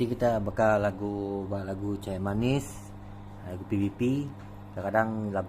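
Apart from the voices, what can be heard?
None of the usual background noises is heard.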